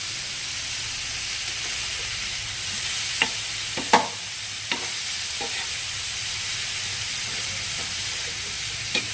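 A pan of tomato chutney with salt and turmeric is stirred, with a few sharp scrapes and clicks of the spoon over a soft, steady cooking hiss, close and fairly quiet.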